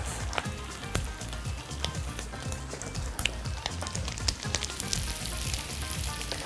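Bacon sizzles in a pan alongside frying potatoes, a close, dense crackle with sharp pops and spits and occasional stirring scrapes, continuous throughout.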